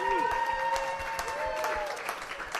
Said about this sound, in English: Have another round of applause for Jeremy Dutcher.